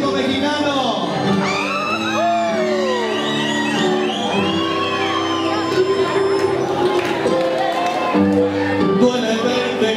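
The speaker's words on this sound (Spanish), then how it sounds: "Grito mexicano." A concert crowd lets out a Mexican grito, with many overlapping whoops, yells and trilling shouts rising and falling for several seconds alongside a steady band drone, loud and close.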